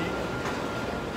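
A São Paulo metro Line 4 Yellow train rumbles steadily on its run, a continuous, fairly close rolling roar with no voices over it.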